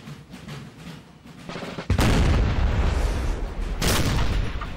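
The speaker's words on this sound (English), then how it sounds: "They're just firing down this road, maybe trying to hit some artillery." Cannon fire in the Napoleonic Total War 3 strategy game, with muffled battlefield rumble before a sudden heavy boom at about two seconds, a sustained roar of artillery and musketry, then a second sharp blast.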